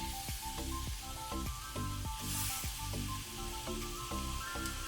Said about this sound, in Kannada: ಟೊಮೆಟೊನ ಸ್ವಲ್ಪ ಫ್ರೈ ಮಾಡುವ